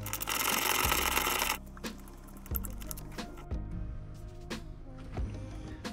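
A 12 mm bolt on the e-brake ground of an S2000 is worked loose with a hand tool, giving scattered metallic clicks and ratcheting taps up close over a steady hum, with no one talking.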